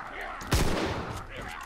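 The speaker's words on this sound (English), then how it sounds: "gunshots" A single sharp gunshot cracks out in the zombie game Contagion, followed by a brief rumbling echo over a low background hum of game ambience.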